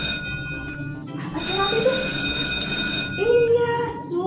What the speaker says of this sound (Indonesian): Nah, bel berbunyi.